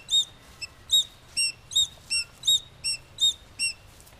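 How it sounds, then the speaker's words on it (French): A great tit sings outdoors in a park by an old tannery mill, giving a clear, fairly close series of about nine evenly spaced high, thin notes in a steady rhythm with no talk over it. "c'est plutôt le chant de la mésange charbonnière"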